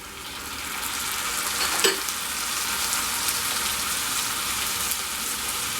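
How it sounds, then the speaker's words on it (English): Onions sizzle steadily in hot oil over a medium flame for a Bengali fish head pulao, a continuous bright crackle with a brief stir partway through. "our onions are getting fried on the medium flame"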